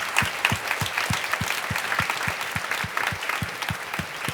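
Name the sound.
church congregation applauding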